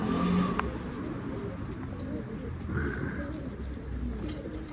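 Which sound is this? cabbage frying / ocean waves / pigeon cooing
pigeon cooing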